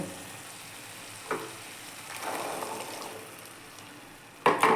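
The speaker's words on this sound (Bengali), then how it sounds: "মশলাগুলো মোটামুটি আমার ভাজা হয়ে গেছে। এখন আমি এইটাতে চানা দিয়ে দেব।" Chickpeas tipped into spices already frying in a pan, a soft steady sizzle with faint clinks and a sharper burst of hissing near the end.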